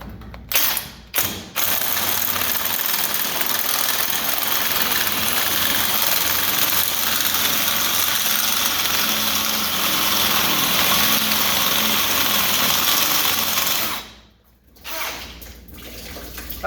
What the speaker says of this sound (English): Helps when the pilot bit doesn't fall off the drill.